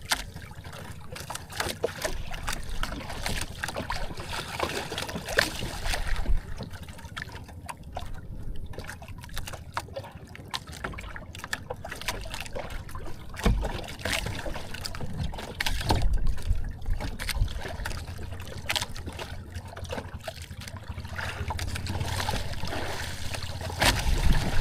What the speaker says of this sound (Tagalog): Ayan ang ating makina.